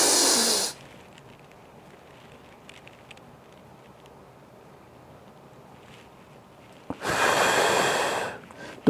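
Two loud, airy breaths in a deep breathing exercise, one at the start and a longer one near the end, separated by a long quiet pause.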